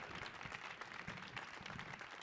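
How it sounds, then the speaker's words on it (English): A crowd at a poetry event claps in continuous applause throughout, dense and moderately distant, without individual voices standing out. "round of applause for Zita."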